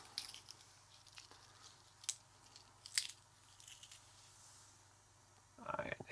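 Estrella Heta Häxhattar corn snacks being eaten, with a few quiet crisp bites and crunches spaced out over a soft background, followed by a louder rustle and crunch at the end.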